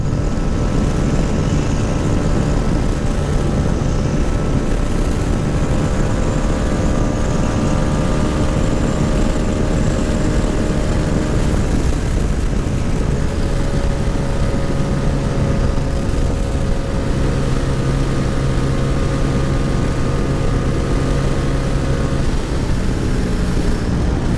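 A Cross Country 300 engine runs at high RPM while riding, a loud, steady droning roar with a constant tonal whine that holds without pause throughout.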